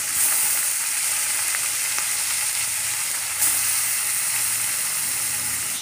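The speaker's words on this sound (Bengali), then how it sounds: "তেল দিয়ে এখানে পাবদা মাছ নিয়ে এসে পাবদা মাছ কটা ভেজে নিলাম" Pabda fish fry in hot oil in a wok, giving a dense, steady, loud sizzle that runs unbroken throughout, with one brief sharper spatter partway through.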